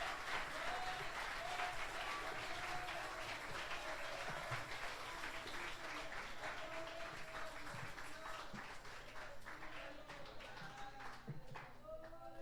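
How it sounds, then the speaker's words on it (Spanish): A church congregation at a Sunday service applauds loudly and continuously, a dense wash of many hands clapping that holds steady throughout, with voices mixed in. "Dele el aplauso fuerte al Señor,"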